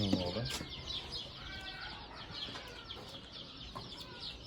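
Young chicks of the Brahma and Ligorin breeds cheep in a busy, overlapping chorus with occasional clucks, close by on a farmyard's open ground, with a voice heard faintly now and then.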